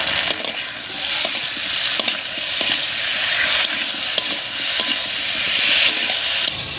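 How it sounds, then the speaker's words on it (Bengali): Spice pastes of chilli, coriander, cumin and ginger stir-fried with raw papaya and potato in a pan, a loud steady sizzle and hiss with repeated scraping strokes of the spoon, no talk. "মশলাগুলো দিয়ে বেশ ভালো করে নাড়িয়ে নিয়েছি।"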